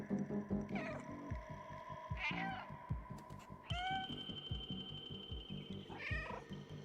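The cat in the game Stray gives several clear, drawn-out meows in succession over a rhythmic, throbbing background of game sound.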